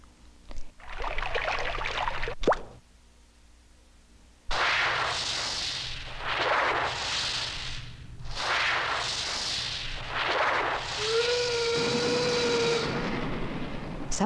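Steam bursts out in loud hissing gusts, repeated in pulsing waves, before a steam whistle sounds a clear steady tone near the end, close and strong, with no talk.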